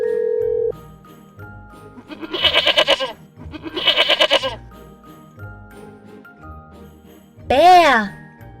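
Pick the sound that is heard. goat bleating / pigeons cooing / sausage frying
goat bleating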